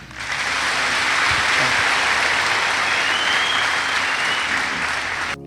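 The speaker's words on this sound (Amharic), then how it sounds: "አጨብጭቡለት።" Sustained, loud audience applause fills a church youth gathering, dense and steady from start to finish with a faint voice or two beneath it before it cuts off abruptly at the end.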